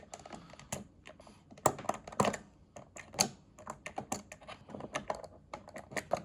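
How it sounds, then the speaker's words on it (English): Plastic pegs are scraped off an LED board by hand, giving a series of faint, irregular clicks and scratches close by with brief pauses between. "You can just easily scrape those off."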